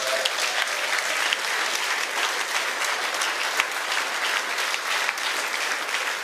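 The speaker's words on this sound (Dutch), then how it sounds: "Geef die ook een welverdiend applaus." A studio audience at a student talk show applauds steadily, many hands clapping in a dense, even roar that holds at a constant level throughout without pause.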